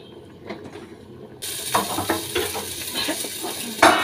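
Vegetables frying in a pan: after a quiet start with faint clicks, a loud hissing sizzle bursts in and continues alongside light clattering.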